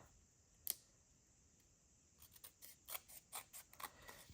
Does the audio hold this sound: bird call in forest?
no